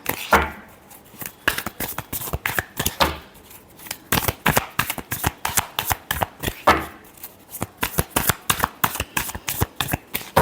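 Tarot cards being shuffled by hand, repeated quick papery riffles and soft slaps in an uneven rhythm, close and clear with no talk.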